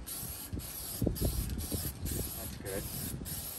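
Rustoleum Hammered spray paint hisses from a can onto a truck's rear bumper in a steady close spray, broken by short pauses and faint rattling clicks.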